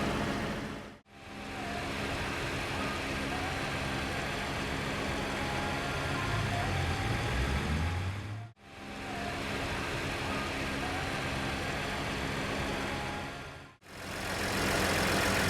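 A 2017 Ford Edge Sport's 2.7-liter turbocharged EcoBoost V6 idles steadily at close range, a continuous low engine hum broken by two short gaps.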